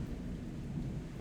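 A thunderstorm with a low rumble of thunder and steady rain, a brief, dense and fairly faint wash of sound with no voices.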